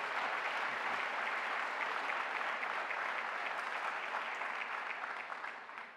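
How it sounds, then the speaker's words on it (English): An audience at an agricultural college FFA event gives a round of applause, dense steady clapping from a large crowd that holds evenly for about five seconds and then begins to fade. "how about another nice round of applause"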